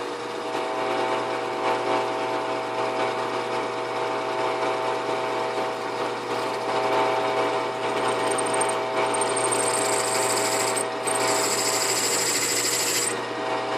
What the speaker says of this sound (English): I'm going to drill this very slowly.